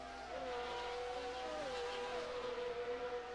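Pagani Zonda race cars roaring in a racing video game, a sustained high engine wail with rising and falling pitch as the gears shift, plus a brief tire squeal, steady and unbroken throughout.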